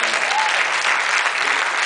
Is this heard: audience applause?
yes